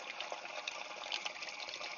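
Water running and purging back through a pipe in a horse well, a steady faint hiss and trickle of flowing liquid, continuous and alone.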